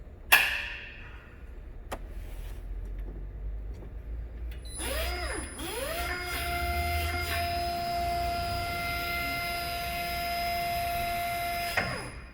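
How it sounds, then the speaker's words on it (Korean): A battery-powered Nichiyu electric forklift, overhauled, gives a few clunks and knocks at the start, then a mechanical whine starts up and holds a steady electric hum with sustained tones. "배터리식 전동 지게차입니다."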